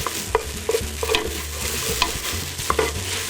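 Tomato paste cooking in a pan, stirred with a utensil: rhythmic scraping and knocking strokes over a low sizzle, close and distinct, with no speech.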